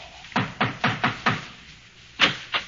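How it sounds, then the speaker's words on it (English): Knocking at a penthouse door in an old-time radio comedy: a steady run of five close raps, a short pause, then two more quick knocks, with no voices. "He knocks at the penthouse door."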